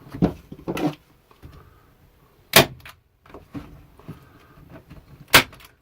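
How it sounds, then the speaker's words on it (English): Staple gun firing into the corner of a canvas being stretched on its frame, sharp close thwacks spaced a few seconds apart with quieter handling noises between them. "before I put a staple on the corner there"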